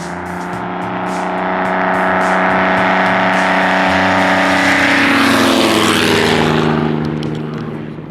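A 1947 Navion propeller aircraft engine drones loudly, swelling as it nears and fading slightly as it passes, with no talking.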